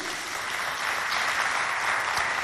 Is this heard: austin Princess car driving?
no